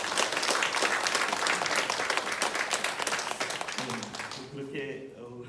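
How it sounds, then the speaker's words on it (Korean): Congregation applause during a Sunday afternoon church service, a dense steady clapping from many hands that fades over the last second or so as a voice begins speaking. "하나님께 영광의 박수 올려드리기 원합니다."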